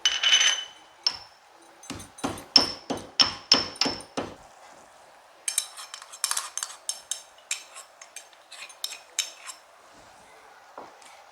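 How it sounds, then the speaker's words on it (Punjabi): Cardamom pods being pounded for laddoo syrup in a home kitchen: a quick run of sharp, close metallic taps in a steady rhythm, a brief pause, then a second faster, lighter series of knocks, with no talk. "ਚਾਰ ਲੈਚੀਆਂ ਇਹਨਾਂ ਨੂੰ ਆਪਾਂ ਕੁੱਟ ਕੇ ਵਿੱਚ ਪਾਵਾਂਗੇ ਫਲੇਵਰ ਵਾਸਤੇ"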